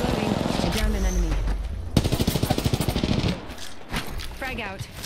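Rapid automatic gunfire from an Apex Legends match, a dense burst of quick shots in the middle, with calm voice lines spoken over the surrounding moments.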